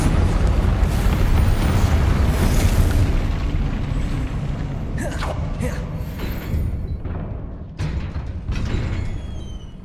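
In Hogwarts Legacy the Confringo fire spell goes off in blasts amid a dense rumble of fighting. Sharp whooshing bursts and crackles arrive in a cluster about halfway through, then fade under steady background noise.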